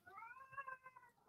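Pet cat giving one drawn-out, wavering meow, faint and alone in a quiet room.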